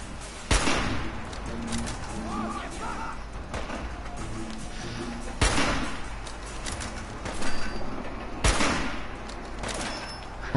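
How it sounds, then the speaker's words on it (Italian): Gunfire from the Fallout 4 video game comes as a few loud, sharp shots spread apart, each with a short crack, over ongoing game background noise. "adesso gli sparo al piede."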